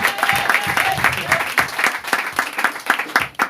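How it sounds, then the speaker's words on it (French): Church congregation clapping and cheering to acclaim the Lord, a dense, lively burst of applause with quick overlapping claps throughout, voices mixed into the crowd noise. "Est-ce qu'on peut acclamer très fort le Seigneur?"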